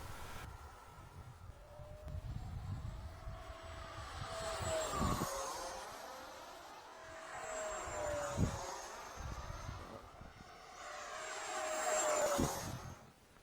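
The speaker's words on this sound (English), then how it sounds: "Adam flew his planes as well, and you're seeing a few quick clips right now" Remote-control model airplanes fly past outdoors, their electric motors whining and swelling into several distinct passes that rise and fall in pitch, fairly distant and moderately quiet, with light wind noise.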